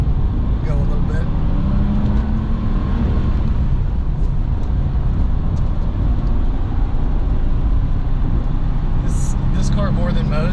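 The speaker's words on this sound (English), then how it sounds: "you're hearing noise and vibration simply because of the bad tires" A 1996 Porsche 911 Carrera driving on bad tires gives a steady, loud road roar and drone throughout, with engine and tire noise continuous and a voice talking over it.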